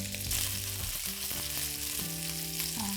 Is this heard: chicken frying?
yes